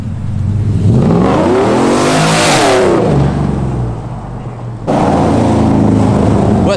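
A custom-built truck revs hard on a practice run, engine pitch sweeping up and falling back in a loud, close roar, then easing off briefly before a fresh burst of throttle.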